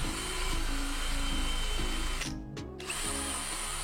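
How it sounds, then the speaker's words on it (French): Power sanding on a pressed-steel car wheel rim being prepped for repainting with budget spray paint: a loud, steady whining grind with a brief dip in the middle, no voices. "pour commencer, on fait une longue séance de ponçage"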